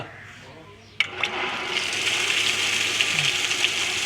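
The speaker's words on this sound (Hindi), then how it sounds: "अभी सिर्फ पानी की आवाज़ है, मोटर की आवाज़ बिल्कुल ख़त्म हो गई है।" A water pump motor, freshly repaired, runs with a steady rush of flowing water. The flow starts abruptly after a quiet moment and continues evenly and fairly loud, with no motor whine standing out.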